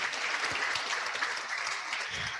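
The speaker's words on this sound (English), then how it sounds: "let's give them another round of applause," Audience at a hybrid Rotary meeting applauds presenters, a steady dense clapping that fills the whole stretch at an even level, with a faint low thump near the end.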